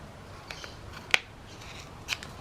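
Scissors snip the corner off a paper photo journal page: two or three quick, crisp cuts in a quiet room, the loudest in the middle and a softer one near the end.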